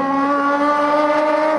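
A Mitsubishi FTO front-wheel-drive drag car screams down the strip at Santa Pod Raceway, its engine a loud, sustained high-revving whine held steady throughout.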